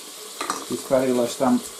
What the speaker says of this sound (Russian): Сейчас уже 15 минут уже там жарится мясо.